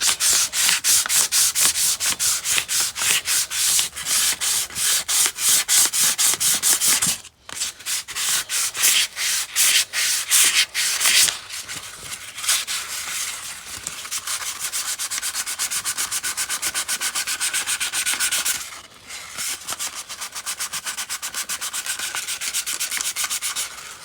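Sandpaper of 400 grit rubs rust off a Honda motorcycle triple tree in steady, rapid back-and-forth strokes, loud and close, with two brief pauses partway through.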